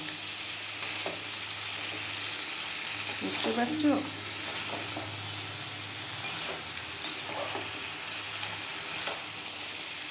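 Flat beans cooked with whole poppy seeds fry and sizzle in a pan, with occasional stirring scrapes and clicks; the steady sizzle runs throughout beneath a woman's brief question.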